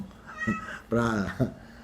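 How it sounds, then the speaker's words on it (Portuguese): A house cat meows indoors, giving two or three short, close meows spaced a fraction of a second apart, moderately quiet against a low background hum. "Se vocês ouvirem um miado, é que eu tenho um gato aqui em casa"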